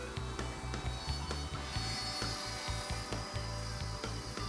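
A router on a Leigh RTJ400 router table dovetail jig cuts half-blind dovetail pins and tails in wood, giving a continuous whining buzz broken by rhythmic chattering bursts as the bit moves through the template openings.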